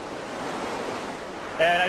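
The fast, cold, class 5 rapids of the Urubamba river rush in a loud, steady broadband roar close by, with a brief tonal sound near the end.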